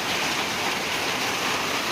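Heavy rain pours down during a hailstorm in Odisha, a dense, continuous, even hiss of falling water close by, with no voices over it.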